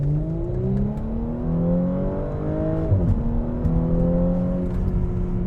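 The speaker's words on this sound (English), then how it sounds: "It almost sounds like a DSG sort of fart noise" An Audi S5's engine and exhaust rev up steadily as it accelerates, pitch climbing through gear changes with a brief dip in the middle, loud and close.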